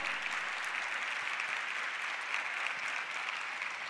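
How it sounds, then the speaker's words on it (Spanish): Steady, dense applause from a university audience at an honorary doctorate ceremony fills the whole stretch, a continuous even roar of many hands clapping with no voices over it. "Muy fuerte aplauso,"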